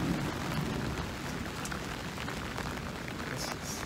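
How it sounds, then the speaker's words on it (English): Steady rain falls outdoors at a fishing spot under the William Powell Bridge in Key Biscayne, a faint, even hiss of drops with no voices. "Ooh, it's raining."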